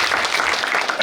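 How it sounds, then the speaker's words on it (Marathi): An indoor audience applauds a teacher at a coaching-class event: a short, dense burst of many hands clapping together, loud and close, with a faint voice under it. "सर्वप्रथम सरांसाठी टाळ्या वाजवा"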